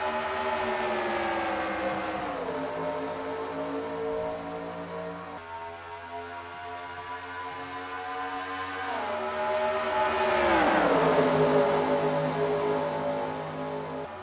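Simulated stock cars in a Papyrus racing game, a field of engines droning and rising in pitch together as they accelerate through the gears, loud and continuous, with no talking.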